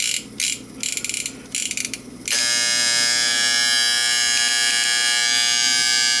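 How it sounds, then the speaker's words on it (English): A vintage Sankyo Seiki mechanical digital clock, its alarm driven by the motor winding, breaks into a loud, steady, harmonic-rich electric buzz that runs on without a break, after a couple of seconds of faint, intermittent mechanical handling noise. "Now let's see how the alarm works in real life here."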